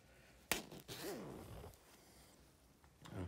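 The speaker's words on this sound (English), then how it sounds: "I'm struggling with a zipper." A zipper on the back of a fursuit is tugged in a few short, rasping pulls, close by, with brief pauses and soft rustling of fabric between the strokes.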